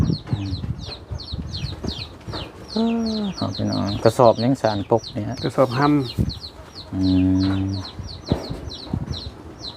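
Chickens cluck and a rooster crows loudly nearby on a rural Thai farm plot, with small birds chirping throughout while a person talks between the calls.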